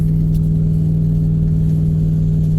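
A car engine fitted with an Edelbrock 4150 carburetor runs loud and close, holding a steady, even droning hum throughout with no distinct rise or fall in pitch.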